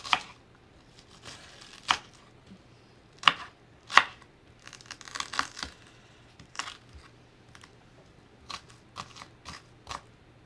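A knife chops an onion on a cutting board in a home kitchen, giving a series of sharp, irregular taps spread across the clip with short gaps between them, moderately faint and close.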